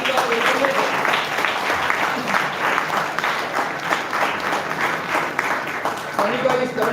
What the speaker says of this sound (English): Give a big round of applause to Sanika Vendulekar.